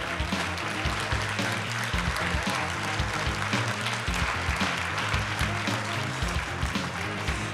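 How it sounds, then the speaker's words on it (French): An audience at the Hopl'Awards 2023 ceremony applauds steadily, a dense sustained patter of many hands clapping without pause in a large room. "on peut applaudir encore la Comète des Zingues, s'il vous plaît"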